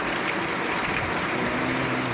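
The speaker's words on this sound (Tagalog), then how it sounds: "Tapos ang hangin, tapos lakas ng ulan." Steady, dense hiss of heavy rain with a broad wash of wind at sea, continuous and fairly quiet, no voices.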